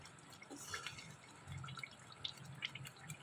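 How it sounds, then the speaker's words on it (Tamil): Gravy for a raw banana fry simmering and thickening in a pan, giving faint, scattered bubbling and small popping drips over a low background hiss. "இப்போ நல்லா கொதிச்சு சுண்டி வந்துருச்சு"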